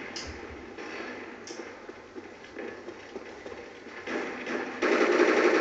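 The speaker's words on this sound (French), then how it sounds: "j'ai changé encore le Galil. Je tire un peu avec." Rapid automatic rifle fire from a Galil in a video game, a dense rattling burst that runs throughout, swelling louder toward the end.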